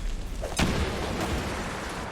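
A bomb goes off in XCOM 2 with one heavy, close boom partway through, and a low rumble of battle stays under it.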